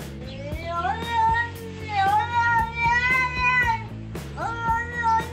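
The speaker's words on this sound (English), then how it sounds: "This cat has no choice but to yell at the door." A cat yells at a door to get let into the house, giving loud, drawn-out yowls one after another at close range with only brief breaks between them.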